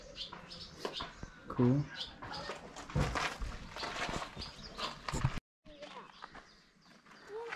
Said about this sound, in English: There's birds up there and right there.